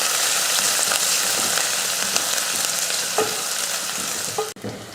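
Small onions sautéing in hot oil with fenugreek seeds and curry leaves, a steady close sizzle with occasional stirring scrapes and a brief clatter near the end.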